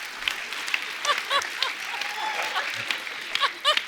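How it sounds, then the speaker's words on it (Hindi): Studio audience at a comedy talk show breaks into bursts of clapping and cheering, a steady crowd bed punctuated by louder swells, with no one speaking over it. "ठोको ताली"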